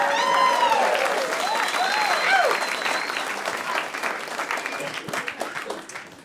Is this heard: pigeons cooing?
no